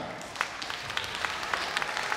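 Audience applause at a children's holiday concert in Moscow, heard as a steady broadband clapping wash with scattered sharper claps, moderately loud and continuous without speech.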